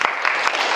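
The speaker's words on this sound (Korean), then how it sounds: "박수 한번 쳐주세요." Brief applause from a congregation at a morning worship service, a short burst of mixed clapping at moderate loudness.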